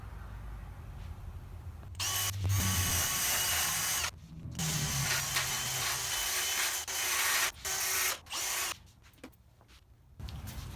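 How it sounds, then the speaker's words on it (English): Metal being sanded and scuffed with a power tool to prep it for a weld repair: loud abrasive grinding in long stretches broken by short pauses, close and continuous with no talking. "let me get it all prepped up and sanded, and scuffed down a little bit, so we can get it to take a weld"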